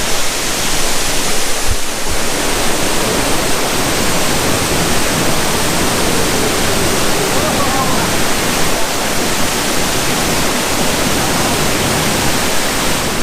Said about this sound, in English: you get closer and closer to the falls, and it's spectacular